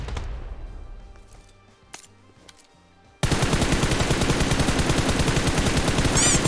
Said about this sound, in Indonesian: dari mana nembak gua